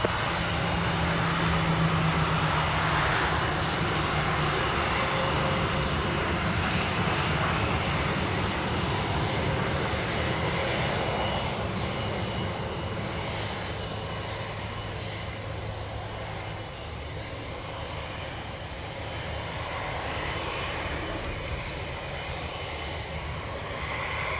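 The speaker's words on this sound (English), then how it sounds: "Cleared for takeoff, runway 25, wind 200 degrees, 11 knots." A fixed-wing airliner takes off from runway 25 at Montego Bay, Jamaica: a loud, continuous jet engine roar with broad rumble and hiss, sustained for the whole stretch and fading only slightly toward the end.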